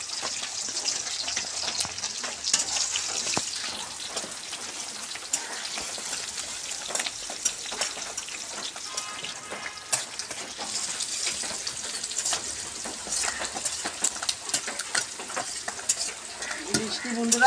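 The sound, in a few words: onion, chilli and garlic frying for bitter gourd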